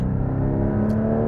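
A Porsche Cayman GT4's mid-mounted engine revs steadily from just behind the cabin, a loud, sustained mechanical drone with a strong low hum and no voices over it.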